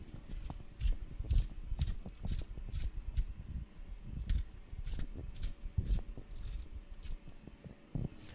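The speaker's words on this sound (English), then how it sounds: "ripping and rolling down the street up there in their little wagons pulled by their horses" Hooves of horses pulling small wagons clip-clop along a street, a busy irregular run of sharp knocks heard fairly close, continuous throughout with no talking.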